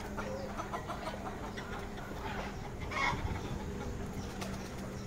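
Farmyard chickens, kept alongside guinea fowl, cluck faintly and steadily in the background with low murmuring calls, a slightly louder burst near the middle, no voices present.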